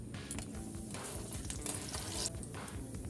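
Asafoetida, cumin and fennel seeds frying in hot oil in a kadai, a steady close crackling sizzle with scattered pops throughout, no voices.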